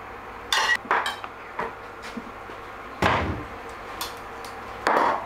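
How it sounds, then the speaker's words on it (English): Pasta tossed into a pan of crab sauce for linguine, several distinct clanks and knocks of utensils against cookware with scraping in between, close by and irregular against quiet. "In goes the pasta, mix it around a bit"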